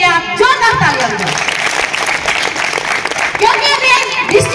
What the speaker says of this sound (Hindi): एक बार इसके लिए भी आप जोरदार तालियां बजाओ